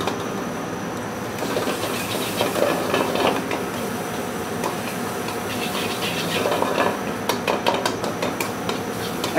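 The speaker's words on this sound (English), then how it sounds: "And that's good pan action right there." A pan moved and tossed on a kitchen stove, with repeated metallic scrapes and clanks over a steady sizzling hiss, close and continuous, busiest toward the end.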